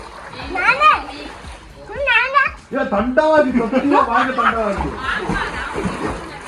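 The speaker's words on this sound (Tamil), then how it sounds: "ஸ்விமிங் பூல்ல நம்ம ஒரு டைவ் பண்ணலாம்." A water splash as someone dives into a villa swimming pool in Lonavala, amid lively children's voices talking and chuckling nearby.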